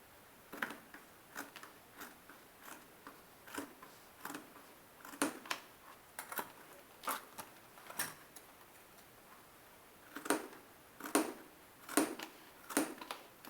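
Faint, crisp snips from sharp scissors cutting macrame cord repeat irregularly, some quick double clicks, close up against a quiet background with no talking.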